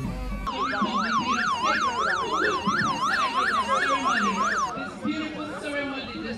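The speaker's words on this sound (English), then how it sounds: "the hooting sirens from the police escort bikes would already announce the arrival of President Biya's personal representative" Loud wailing sirens from police escort motorcycles cycling rapidly up and down in a steady rhythm, close by, with engine noise underneath before they cut off near the end.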